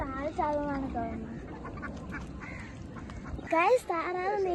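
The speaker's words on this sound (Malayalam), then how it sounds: "നോക്കിയ ഗൈസ്, എത്ര താറാവാണെന്ന്." Ducks quack in a flock on the water during an evening walk at Punchakiri, with repeated nasal calls near the start and end and a voice talking over the middle.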